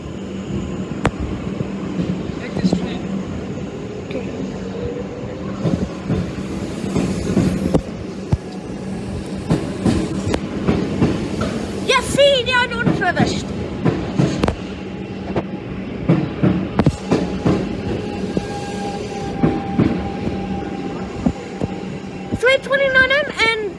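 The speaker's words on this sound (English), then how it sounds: "Craigieburn's train is leaving platform 5." Busy Melbourne station ambience with a Craigieburn train departing platform 5, rumbling and clattering along the platform, sharp metallic clanks and squeals, people talking throughout.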